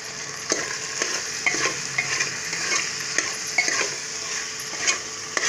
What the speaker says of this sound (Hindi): तो 2-3 मिनट तक अच्छा फ्राई कर लीजिए।